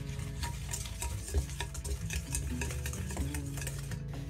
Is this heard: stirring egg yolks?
yes